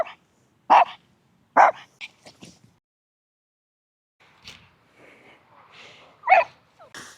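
A dog barks sharply a few times, with gaps between, along with some softer yips and whimpers, fairly close.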